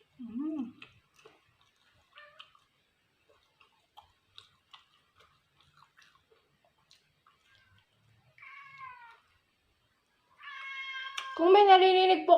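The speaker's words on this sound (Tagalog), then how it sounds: "Kung may narinig po kayong mga pusa ganyan, mayroon po dito sa tabi ko na pusa." A cat meows several times close by, with short cries early on and a louder, drawn-out series of meows at the end, amid soft ticking and near silence.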